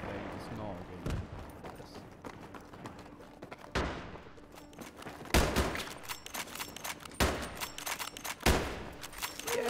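Gunfire in Battlefield 3 Gun Master mode, sharp loud shots in irregular bursts and single cracks spread across the battle, with someone talking between and over the shots.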